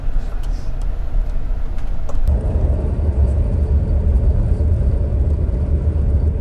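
A car cruising along a long, straight palm-lined highway, giving a steady, loud road rumble and engine drone that deepens and grows heavier partway through, with no voices.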